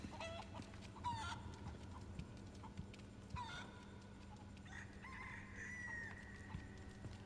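Chickens cluck and a rooster crows in the Resident Evil 4 Remake game, with several short clucks and calls scattered over a steady background of ambient game noise.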